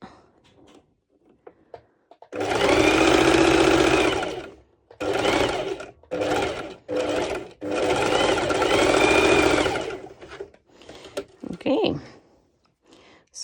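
A sewing machine stitches a one-shoulder top in several bursts: two long runs and a few short ones, with brief pauses between them. The whirring is close and loud, and a short back-stitch follows near the end.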